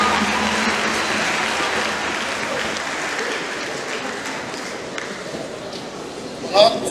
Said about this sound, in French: je peux l'encourager avec mes applaudissements